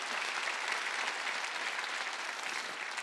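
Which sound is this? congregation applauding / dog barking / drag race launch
congregation applauding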